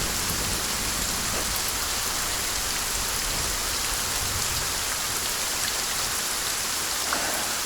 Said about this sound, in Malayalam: ഇതുപോലെ ഭയങ്കര മഴയായിരുന്നു.